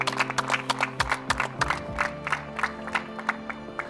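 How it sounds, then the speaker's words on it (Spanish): An audience on the TV competition show Exatlón EEUU claps in quick rhythmic bursts, with crowd noise and low tones underneath. "Un aplauso para Eric, por favor."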